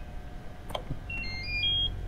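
A faint electronic beep sounds in the video game Dead Man's Journey, along with a brief thump and a thin rising tone, over a low steady ambient rumble.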